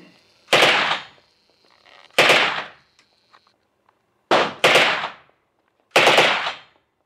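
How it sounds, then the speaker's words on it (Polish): Loud, close gunshots at a shooting range ring out as four separate blasts, two of them in quick succession, each with a sharp report and a decaying echo and with silence between them. "Ktoś tam strzela?"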